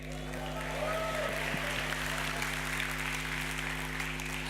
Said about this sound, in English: Every year there's more people and it gets quieter from the claps, so we're going to give it another go.